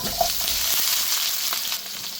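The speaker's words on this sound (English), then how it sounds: "Just want to saute those onions." Diced onion and cumin seed sizzle and fry in a pan for chicken jalfrezi, a steady close crackle with a soft stirring scrape, no voices.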